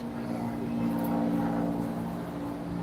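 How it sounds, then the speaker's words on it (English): A private propeller plane passing overhead, a steady droning hum with a low tonal note that holds at even loudness throughout, heard alone without talk. "Another private plane, probably another damn celebrity."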